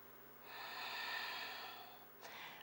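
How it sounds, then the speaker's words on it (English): One slow, audible breath drawn in and let out during a yoga flow, the airy rush swelling and fading, then a short second breath begins near the end, quiet and close. "Inhaling and exhaling."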